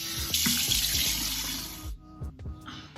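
Water runs from a bathroom tap while a face is rinsed, a steady splashing hiss for about two seconds that then cuts off, leaving a few short drips and handling sounds.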